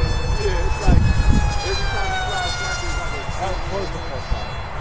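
A 7S Texas Stryker RC plane passes below, its electric motor whining as a steady high tone with a faint pitch shift, loud and close over wind and background noise.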